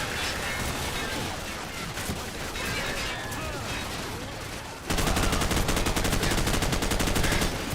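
Rapid automatic gunfire from an RPK machine gun in Call of Duty: Modern Warfare, a dense, loud burst that jumps in sharply partway through after a stretch of noisy game ambience.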